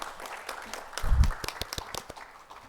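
A lecture audience at a KIST event gives brief, fairly faint applause, with scattered claps thinning out after a short louder burst.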